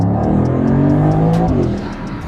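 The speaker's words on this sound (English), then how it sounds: "I'll go into gear 2 and we'll push it." A 2026 Mercedes-Benz SL63 AMG pulling hard in second gear, its engine note loud and rising steadily from inside the cabin, with faint ticking behind it before the roar eases off at the end.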